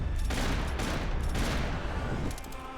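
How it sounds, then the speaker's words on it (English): Sustained bursts of gunfire from the video game Max Payne 3 crackle in a dense, continuous fusillade that tapers off near the end, with no talking. "Not actually sure where I'm getting shot from, to be honest."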